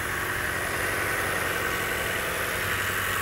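A 2019 Toyota Camry LE's regular four-cylinder engine idles with an even, steady hum, close and constant for the whole stretch, with no voices over it.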